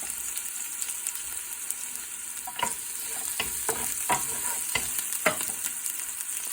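Onion and garlic fry in a pan for a chicken curry, with a steady soft sizzle and occasional scraping stirs of a utensil against the pan. No voices.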